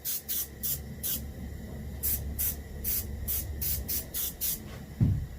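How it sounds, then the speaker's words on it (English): An airbrush sprays chocolate-brown paint onto a reproduction warmouth fish in a series of short hissing bursts, about a dozen quick pulses in an uneven rhythm over a low background hum, close to the microphone. "And we spray basically the upper 2/3 of the fish."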